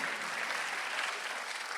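A church congregation claps together during a Korean Sunday worship service, producing a dense, steady wash of applause that fills the room without a break.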